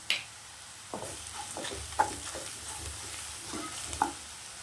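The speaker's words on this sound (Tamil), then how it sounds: "நல்லா இந்த எண்ணெயிலே வதக்கிட்டுருங்க" Curry masala sautés in hot oil for a green moong dal, a soft sizzle broken by several distinct scraping stirs of a spoon against the pan, close up.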